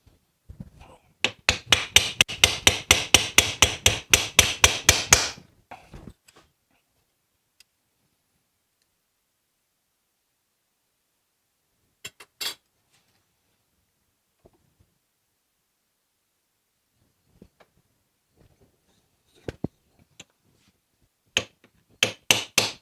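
Metal mast tangs for a wooden sailboat are held in a vise and hammered into a bend: a fast burst of about twenty sharp, ringing blows, then silence broken by a few scattered taps and knocks.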